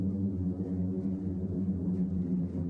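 Booming sand dunes at Dumont Dunes in Death Valley give a steady, low droning hum like a long held note, constant and moderately loud throughout with no talk over it.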